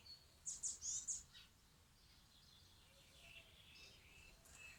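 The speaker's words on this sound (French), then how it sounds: "Attends les petits oiseaux." Small birds chirp in a quick, bright burst of four calls near the start, then fall to faint, scattered twittering over a quiet background.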